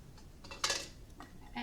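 Cheesecake filling with powdered sugar and vanilla stirred in a bowl: soft utensil scrapes and clinks against the bowl, with a louder burst of scraping midway and a few quieter strokes around it, close and fairly faint.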